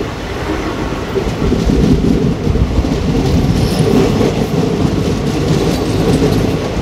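A train on a single-line track through a short, hilly ghat section with curves on the Guntur to Dhone route in Andhra Pradesh, giving a steady, loud rolling rumble with continuous wheel clatter and no voices.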